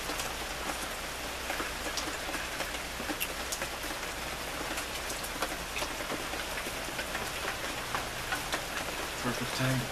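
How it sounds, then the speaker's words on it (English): Steady rain on a California day, falling as a dense close patter with scattered sharp drops over a low background hum, continuous throughout. "What else is there to do on a rainy day like this?"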